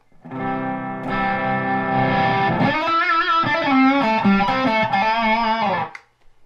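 An electric guitar with its volume turned down plays a lighter, cleaner tone with a shimmering, chorus-like quality, holding chords for several seconds before stopping.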